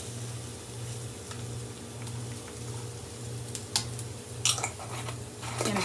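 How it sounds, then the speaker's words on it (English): Paprika, chili powder and cumin toasting in a pan, a gentle steady sizzle over a low pulsing hum, with a few light clinks of a utensil stirring near the end. "stir that up a bit. Toast those spices a little."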